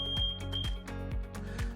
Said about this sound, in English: you will hear the freezer start to overtemp alarm